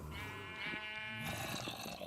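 A sheep in a video game gives one long, wavering bleat that starts nasal and steady, then breaks into a rougher, shakier tail, close and alone over a faint background.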